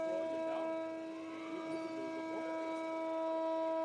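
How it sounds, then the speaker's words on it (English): A steady, droning siren tone to clear the starting grid at a Porsche Carrera Cup Asia race at Sepang holds throughout, moderately loud, with faint voices and background noise beneath it. "There is the siren to let everyone know it is time to clear the grid."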